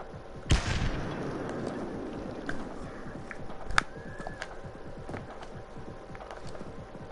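In the Payday 2 video game a grenade goes off with a sharp, loud blast that rings out into a rumbling tail, followed by scattered gunfire cracks, a further shot and busy game noise.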